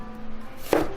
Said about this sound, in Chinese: 蒜也切成片